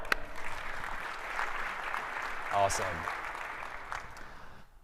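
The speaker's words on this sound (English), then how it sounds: "Let's give him a round of applause" Audience applause breaks out after a technical presentation, a steady roar of clapping filling the room for several seconds, with one voice speaking briefly over it.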